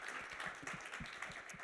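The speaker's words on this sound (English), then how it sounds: "round of applause for our panelists" An audience applauds the panelists after a talk on AI and work, a brief, fairly quiet patter of many hands clapping at an even pace with no speech.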